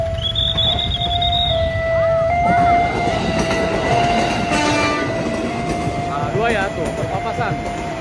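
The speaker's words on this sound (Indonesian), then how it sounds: "Ini dua kereta akan melintas nih lur." Two trains pass each other at a railway level crossing in Indonesia. A horn sounds, wheels clatter loudly and the rumble rises and falls, with people talking over the noise.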